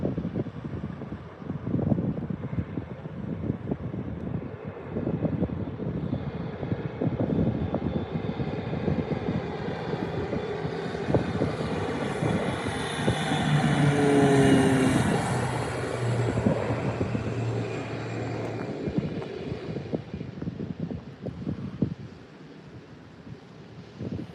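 A jet airplane roars in to land at Lanzarote Airport and rumbles past down the runway at a distance, its engine whine swelling and then fading, with wind buffeting the microphone.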